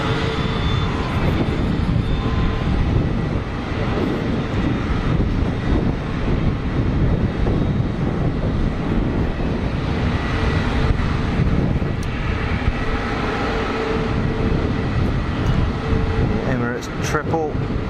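An Emirates Boeing 777 at Geneva Airport near the runway end, a loud sustained jet roar that stays dense and rumbling for about eighteen seconds, close and powerful.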